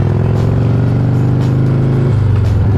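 A 1994 Harley-Davidson Heritage Softail FLST with foot clutch and jockey shift rumbles loud and close while ridden through a U-turn, its deep steady engine note lifting in pitch near the end.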